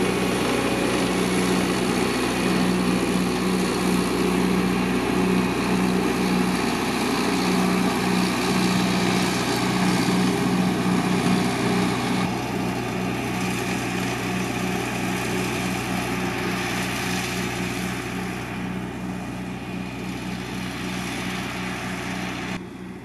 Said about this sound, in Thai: เจ้าตัวรถเกรด Volvo นะครับตัวนี้รุ่น G930 นะครับ 6สูบนะ